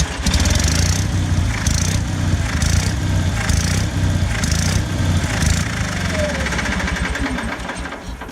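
An Onan generator in an MCI MC9 bus conversion starts and runs with a loud, rough engine chug that pulses rhythmically in regular surges, gradually fading near the end.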